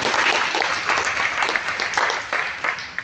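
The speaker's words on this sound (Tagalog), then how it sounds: "Isa munang malakas na palakpak sa Panginoon" A church congregation claps loudly for the Lord, a close, vigorous burst of many hands clapping in uneven waves that begins to thin out by the end.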